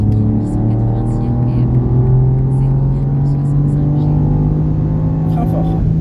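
A track-day car accelerates on a race circuit, its engine note climbing steadily in pitch as a loud, close in-car rumble under an instructor's spoken coaching.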